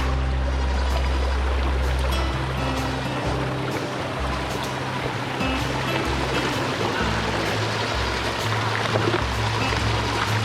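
River water flowing steadily through a jungle, a broad continuous rushing wash with a low rumble beneath, loud and close throughout with no talk.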